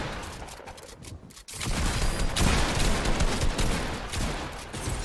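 Bursts of gunfire in a Fortnite trios tournament match, with a brief lull and then dense, sustained rapid shots and fusillades that stay loud and continuous.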